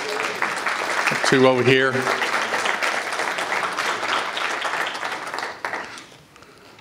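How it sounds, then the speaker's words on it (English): Audience applauding at an American Indian literary festival award event, a broad wash of clapping that continues for several seconds before tapering off, with a brief spoken voice near the start. "let's give them one more round of applause, please"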